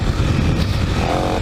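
A Kawasaki KLX300 dirt bike engine on a trail ride, loud and close, a steady throaty drone at constant revs with a short rising tone near the end.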